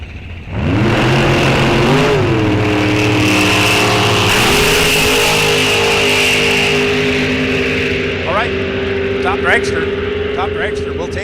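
A Corvette Roadster at a drag racing event with its engine revving hard, its pitch climbing in steps as it launches and pulls away, loud and close, with a voice over a loudspeaker at the end.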